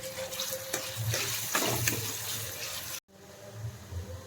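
Moth beans (matki) are washed in water: close splashing and sloshing with a running-tap rush, a few clattering knocks, a sudden cut, then quieter swirling water.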